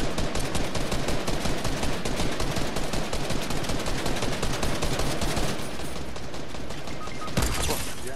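Sustained, rapid automatic gunfire pounds at a building in a video game, loud and continuous for several seconds before the rattle thins out toward the end.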